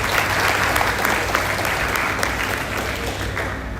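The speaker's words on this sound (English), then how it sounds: "give them a big round of applause" An audience at the DevFest 2024 Goa developer conference gives a big round of applause, steady dense clapping filling the room at full strength and easing slightly toward the end.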